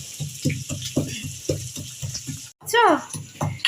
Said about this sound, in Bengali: আগে পেঁয়াজ কুচিগুলো ভাজবো